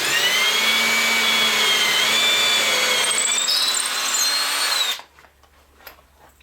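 A drill bit bores through a steel dowelling jig with a loud, steady whine that runs for about five seconds, then cuts off, leaving near silence.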